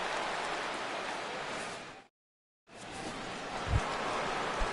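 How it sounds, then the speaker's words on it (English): Steady broadband rain hisses across a baseball game in the sixth inning, broken by a brief moment of complete silence before the downpour resumes at even strength. "Rain continues to fall here in the 6th."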